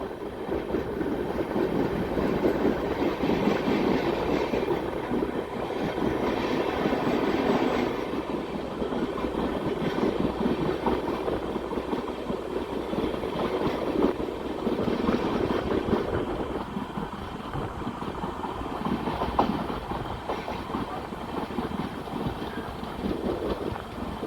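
A passenger train runs on the Bidar to Machilipatnam route, its steady loud rumble and rail clatter continuing throughout without speech.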